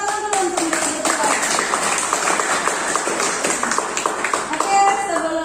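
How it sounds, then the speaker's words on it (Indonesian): A classroom of students claps for classmates, many hands beating quickly in a lively, fairly close patter that holds steady throughout, with faint voices underneath. "Tepuk tangan dulu untuk mereka."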